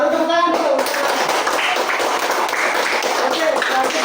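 Classroom applause as pupils clap their hands together during a primary school lesson on food chains, a dense, steady patter of many claps filling the whole stretch, with children's voices mixed in.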